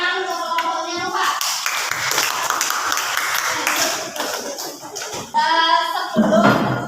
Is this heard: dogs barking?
no